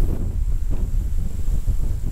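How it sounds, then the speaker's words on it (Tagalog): Strong wind buffets a campsite at night in Bulusan, Sorsogon, Philippines, a continuous low rumbling gusting noise that pulses slightly over a couple of seconds. "Lakas ang hangin."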